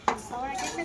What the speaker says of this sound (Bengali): ওই যে প্লেট সার্ভ করছে এবার।